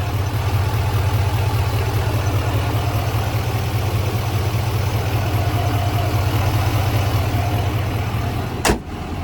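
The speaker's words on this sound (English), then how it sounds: "that diesel does have a roar to it" A 2025 GMC Sierra 2500HD Denali Ultimate diesel engine idling with its hood open, giving a steady, loud low rumble that holds evenly throughout, with one brief knock near the end.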